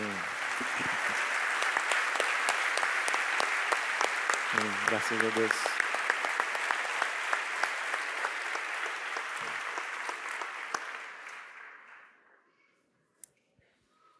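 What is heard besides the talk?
church congregation applauding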